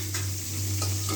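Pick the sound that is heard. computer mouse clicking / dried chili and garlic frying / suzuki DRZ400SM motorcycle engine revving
dried chili and garlic frying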